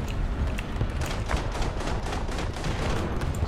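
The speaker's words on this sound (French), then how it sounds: "j'entends des tirs de canon" Cannon fire in War Thunder, a dense, steady barrage of thumping shots with no pauses, heavy and continuous at moderate loudness, blending into a rumbling battlefield din.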